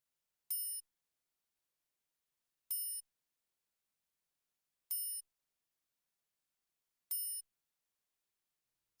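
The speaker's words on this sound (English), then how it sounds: "But here's what a triangle sounds like." A triangle sample from a trap beat made in FL Studio strikes four times, each a bright, metallic ting with a short ring, evenly spaced about two seconds apart and heard alone against silence.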